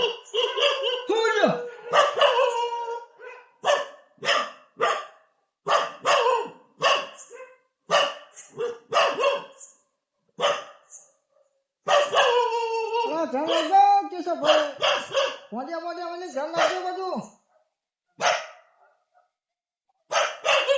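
Dogs bark in short, repeated bursts near a farm field, mixed in with lively talking and some laughter.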